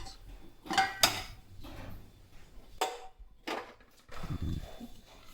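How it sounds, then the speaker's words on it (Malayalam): A pressure cooker lid is worked open after steaming chakka appam: a few sharp metallic clanks and scrapes in a quiet kitchen, followed by softer handling and a low rustle. "കുക്കറിൻ്റെ പ്രഷറൊക്കെ പോയിട്ടുണ്ട്. ഇനി നമുക്കൊന്ന് തുറക്കാം."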